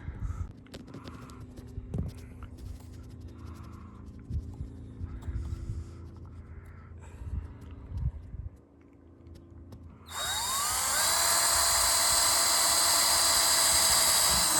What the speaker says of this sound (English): then we can drill the holes for the brackets